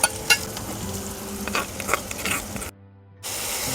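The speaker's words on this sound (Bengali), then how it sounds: "পেঁয়াজ ভাজাটা হয়ে গেছে এবার আদা রসুন বাটাটা দিয়ে দিচ্ছি" Ginger-garlic paste hits a pan of fried onions and cumin and sizzles steadily, with light utensil scrapes and clinks as it is stirred, before a short silent break and the frying returns.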